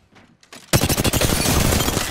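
Rapid automatic gunfire erupts in Apex Legends after a short quiet lead-in, a loud, dense burst of close shots that keeps going to the end.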